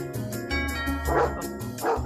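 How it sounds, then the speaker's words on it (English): Dogs barking inside a building, heard from just outside: a rapid string of muffled, repeated barks and yips with no one speaking. "First thing I want to do is hear if there's any barking going on inside."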